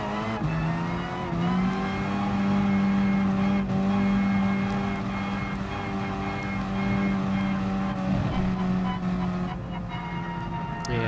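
Race cars on the grid of a Gran Turismo Sport game race, GT3/GT4-class machines, roar with a steady loud engine drone and revving as they launch from the start, a dense continuous mechanical hum with no talk.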